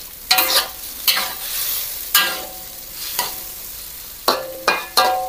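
Beef stir-fried with chili peppers in a pan, spatula scrapes and sharp pops of bursting pepper breaking out every second or so over a steady sizzle, no talking.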